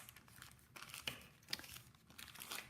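Paper being folded and creased by hand with a bone folder while making a vintage trifold paper bag, heard as soft close crinkles and a few sharper crisp creasing swipes, quiet and without talk.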